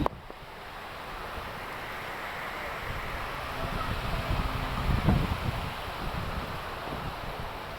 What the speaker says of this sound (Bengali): দেখেন কি পরিমাণের বাতাস আর বৃষ্টি হচ্ছে